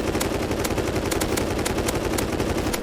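Light machine gun from the Rust video game firing a long, unbroken automatic burst of rapid, evenly spaced shots, loud and close with no voices over it.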